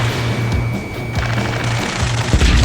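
Video game gunfire from Ace Combat 7 at a space elevator: rapid bursts of automatic fire crackle over a steady low engine drone, loud and close, with a sharper shot cracking near the end and no talk.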